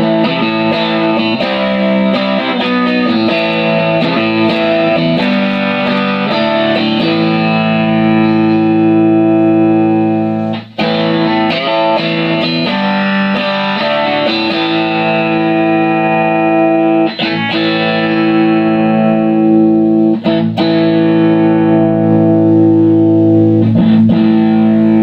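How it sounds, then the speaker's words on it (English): An electric guitar plays through an overdriven Professor Tweed amp with the gain cranked up, loud sustained distorted chords and notes ringing for a long stretch with only brief gaps, no voices. "More gain. Let's crank it up."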